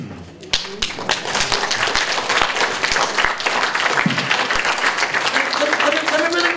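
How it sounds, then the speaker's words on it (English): Audience applause at a panel discussion, dense steady clapping from a crowd filling the whole stretch with a few sharper claps near the start, fairly loud and continuous. "don't clap like you like me"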